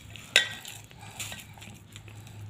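A spoon stirs sabudana and potato pakora batter in a bowl, with one sharp metallic clink at the start followed by softer, close scraping and mixing sounds.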